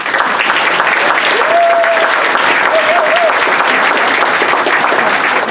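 Loud, steady applause fills the room at a local Republican town committee nomination meeting, with a few brief vocal whoops rising over the even clapping.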